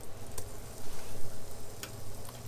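Garlic fries in a pan with bacon fat for green beans, giving a steady close sizzle with a low hum beneath and a couple of faint ticks, no talking.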